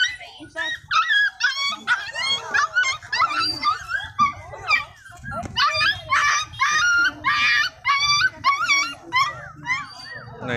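Many dogs, including hunting dogs and puppies, bark, yip and whine continuously at a Vietnamese dog market, close and loud, with people talking beneath.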